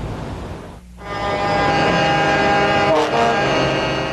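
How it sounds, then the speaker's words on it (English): A parade of trucks blasts long, sustained horns in a loud, continuous blare with a brief dip near the start, like a protest convoy passing close by. "A parade of truckers honked in opposition"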